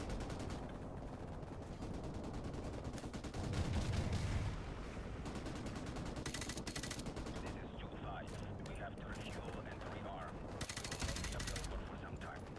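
Call of Duty: Modern Warfare Remastered gunfire rattles in repeated shots and bursts over a constant roar of battle noise, with a louder volley partway through.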